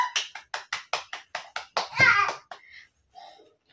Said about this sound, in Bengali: তালিয়া করো।